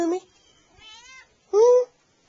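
A cat meows three times close by, a short cry, a softer drawn-out one and a final loud, clear meow, with quiet gaps between.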